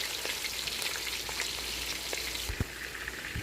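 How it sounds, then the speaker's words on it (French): Fish, oil and onions fry in a pan with a steady, loud crackling sizzle throughout, broken by a few soft knocks and stirring clinks. "On va le retirer pour mettre l'œillette et les oignons. Vous laissez dorer."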